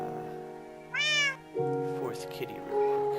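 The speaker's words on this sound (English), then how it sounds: "Here's the family of kitties, just sitting here meowing." A family of cats in the Minecraft video game meows, with a high wavering meow followed by several shorter ones, soft and close against a quiet background.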